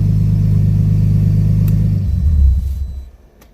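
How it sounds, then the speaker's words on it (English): A Nissan Skyline R32 with an RB25DE-T engine and a fluctuating idle runs loud and close, a steady low rumble that dips and fades out as it shuts off. "So let's go ahead and just turn up the engine."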